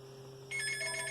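A telephone starts ringing partway through, a faint electronic trill over a low steady hum, with no one talking.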